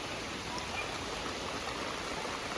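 Heavy rain pouring down, a dense, even roar of water with no breaks.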